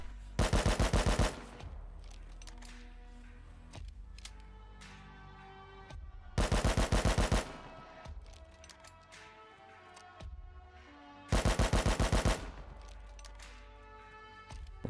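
Automatic rifle spray firing in the video game Rust: three separate short full-auto bursts, each about a second long and spaced a few seconds apart, with quieter ringing decay and small clicks between them.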